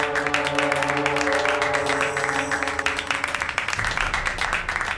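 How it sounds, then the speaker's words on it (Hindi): A studio audience breaks into sustained applause during a Hindi television drama scene, dense and steady clapping from many hands that continues throughout, with a faint musical tone underneath. "हमें इनके जज्बे के लिए ना तालियां बजानी चाहिए।"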